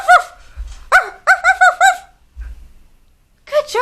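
Children at a storytime imitate zebras, barking and yipping like dogs in short high bursts, several voices in quick irregular clusters with a pause in between, close and loud.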